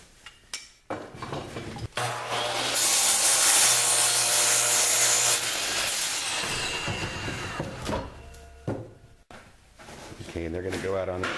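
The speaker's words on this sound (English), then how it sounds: "we're going to cut these 4x4s down to 89 inches." A saw cutting 4x4 wooden posts to length for a greenhouse build, a loud, rough cut lasting several seconds, with voices before and after.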